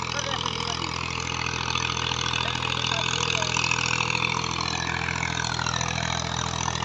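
Massey Ferguson 240 tractor, a 2000 model, working under load while pulling a cultivator through a field in Punjab, Pakistan, its diesel engine droning loudly and steadily throughout.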